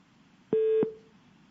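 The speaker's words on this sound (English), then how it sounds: "Your line is dialing out now, but it's just ringing out." A single steady telephone line tone on a company earnings conference call sounds for about a third of a second, clear and alone over faint line hiss.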